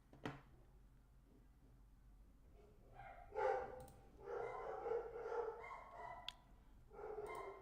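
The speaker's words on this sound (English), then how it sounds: "There's my crazy dogs." Dogs barking at home in several short bursts, fairly close but modest in level, with a few sharp yips scattered across the later part.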